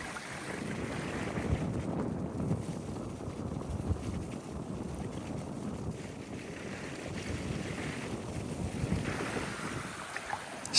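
Steady wind gusting across a Scandinavian flint-hunting shore near the sea, a continuous broadband rush with mild swells and microphone buffeting, no voices.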